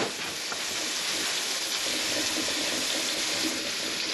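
Dyed turkey tail and hackle feathers are wrung out, releasing a continuous splashing stream of dye water, loud and close.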